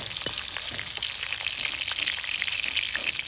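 Boiled potatoes fry in a pan, giving a steady, close sizzle with light crackling throughout and no talking.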